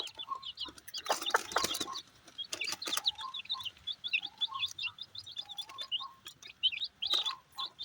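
Chicks and hens cluck and peep busily while being fed grain alongside pigeons at home, high chirps repeating constantly near the listener, with some scratching and rustling bursts.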